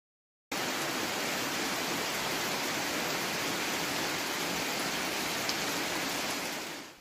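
Rain pattering onto still-hot volcanic lava fields on La Palma, a steady broadband hiss of falling water that holds unchanged from start to finish, with no voices.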